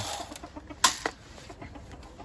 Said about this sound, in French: Là, c'est la poule du voisin.